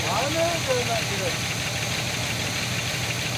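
A 1968 Chevrolet Impala engine with 247,000 miles runs steadily for the first time in 20 years, a continuous rough mechanical drone with voices murmuring faintly over it.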